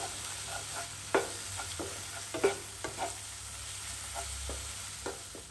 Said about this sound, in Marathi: आता हे एकदा पुन्हा सगळं असं हलवून व्यवस्थित घ्यायचं प्रॉपरली